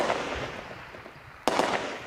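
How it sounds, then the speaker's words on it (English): A sharp, loud burst of gunfire in Khartoum cracks out, a couple of quick reports echoing, after a stretch of muffled background rumble. "They still live with the gunfire, but now it's outgoing."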